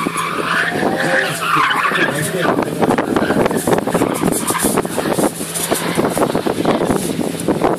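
A Nissan drift car skids at a drift competition, its tires scrubbing and the engine roaring in a continuous rough wash, loud and close, with wind buffeting and some voices underneath.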